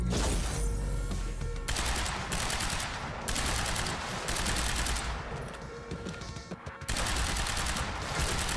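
Rapid, loud gunshots in Quantum Break come in sustained bursts separated by brief gaps, close and dominant with no voices over them.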